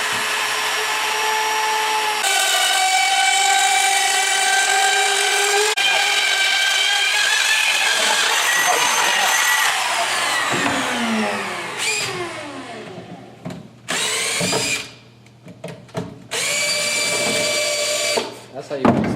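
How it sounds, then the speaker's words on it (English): Roto-Zip rotary cutting tool cutting a hole in the back of a wooden aquarium stand: a loud, high-pitched whining motor that rises and falls as it bites into the wood, with several brief stops and restarts near the end. "purchased what is called a Roto-Zip. It's sort of a cross between a handheld router and a sawzall."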